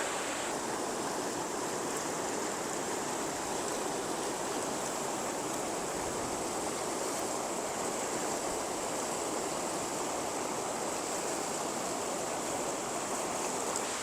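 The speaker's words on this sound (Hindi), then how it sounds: "आप पानी का शोर सुन सकते हैं, बहुत तेज़ी के साथ पानी गुजर रहा है" Steady, loud rush of the flooded Malir River near Malir Dam, a dense continuous roar of fast-flowing water with no breaks and no voices.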